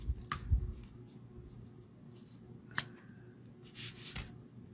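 Scissors trimming ribbon: a few quiet, close snips and light rustles spread across a few seconds.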